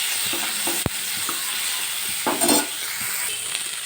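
Onion, tomato and green chilies sauté in a pan, a continuous hissing sizzle broken by a sharp clink and a few scraping stirs with a spoon.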